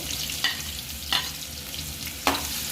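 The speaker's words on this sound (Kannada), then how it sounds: "ಈಗ ಇದಕ್ಕೆ ಎಣ್ಣೆ ಕಾಯ್ದಿದೆ, ಈರುಳ್ಳಿ ಹಾಕ್ಕೊಳ್ತೀನಿ. ಮತ್ತು ಹಸಿಮೆಣಸಿಕಾಯಿನ ಜೊತೆಲೇ ಹಾಕ್ಕೊಳ್ತೀನಿ" Chopped onion and green chillies go into hot oil for egg bhurji and fry with a steady sizzle, broken by three sharp stirring scrapes of the spoon against the pan.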